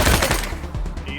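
Sustained automatic gunfire in the video game Wasteland 3 rattles on as a dense, loud burst of overlapping shots, with a voice briefly heard under it.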